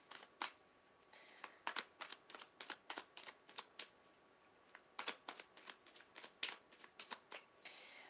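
A deck of tarot cards is shuffled in a quick, uneven series of soft papery riffles and flicks, close and fairly quiet, with brief pauses between bursts.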